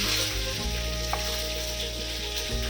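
Chopped vegetables, likely fresh Malabar spinach, fry in a pan with a continuous sizzle, close and steady with a faint stir or clink midway; no voices.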